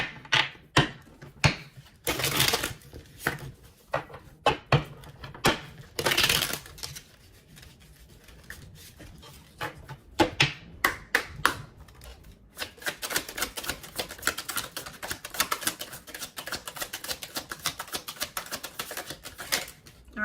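Tarot cards are shuffled and drawn with crisp papery clicks and flutters, a few separate bursts early on, then a long rapid riffle of cards near the end, close by with no talk.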